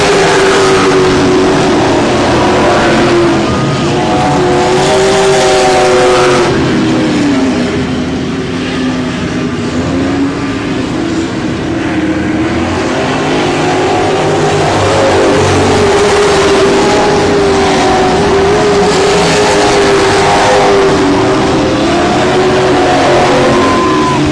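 Race cars lapping the I-37 Speedway track during a regular race program, producing a loud, continuous engine roar with pitch sweeps as cars pass and spread out, with no speech over it.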